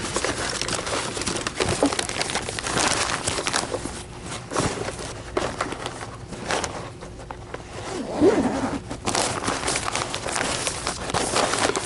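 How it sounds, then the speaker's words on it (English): A vacuum cleaner bag zipper is drawn in repeated rasping strokes, up close, with crinkling fabric and some handling noises in between. "putting a little bit of lubricant on the zipper of your vacuum bag will make it zip up"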